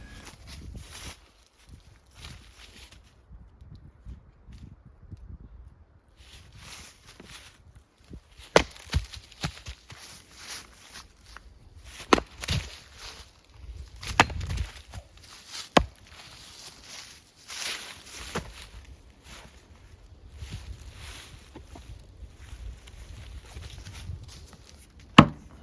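A Beavercraft AX4 felling axe chops and splits wood in a run of irregular, sharp woody thwacks and cracks, some close and loud, with quieter rustling and handling noises between the strikes.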